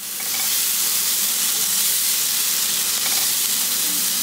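Potatoes fry in a pan with fenugreek, tomato and onion, giving an even, continuous sizzle and hiss that holds steady and close throughout.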